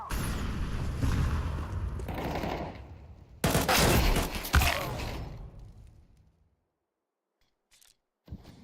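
A grenade explodes in Counter-Strike 2 with a loud close boom that follows rumbling gunfire, then fades into a long decaying tail and near silence before another short sound at the end.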